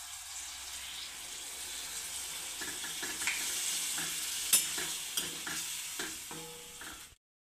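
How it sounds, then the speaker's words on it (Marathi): Hot water goes into a pan of cauliflower and bombil (Bombay duck) masala curry on lowered gas, producing a continuous rushing hiss with scattered spoon clinks before it cuts off abruptly. "त्याआधी गॅस कमी करायचा आहे आपल्याला आणि नंतर गरम पाणी घालायचं आहे बघा।"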